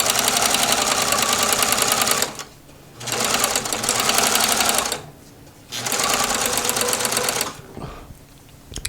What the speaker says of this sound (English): when I'm just finished serging around the edge of a piece just to keep it from fraying